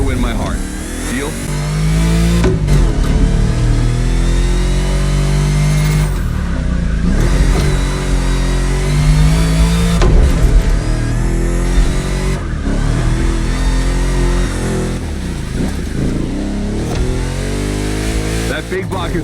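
A powerful big-block car engine revs and roars steadily through a race in The Crew Motorfest, loud and close, with a game character's voice talking over it.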